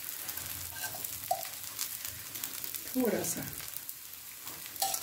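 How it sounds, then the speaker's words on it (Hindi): Garlic paratha frying in ghee on a pan over low heat gives a soft, continuous sizzle with brief spatters and a stir near the middle, while a person talks briefly over it. "घी डालेंगे, और इसे दोनों तरफ से करारा सेकेंगे।"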